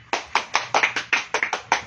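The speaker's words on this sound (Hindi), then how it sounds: "चलिए इनके लिए एक जोरदार ताली।" Audience at a small RCM mini seminar in Haridwar claps in a quick run of about eight distinct, fairly close claps, a sparse handful of hands rather than a full crowd.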